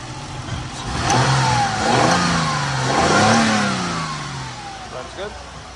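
A 2000 Ford Cougar with a 2.5-litre engine and automatic transmission runs nearby, revving up and easing back in two smooth swells over a steady idle, while someone talks over it.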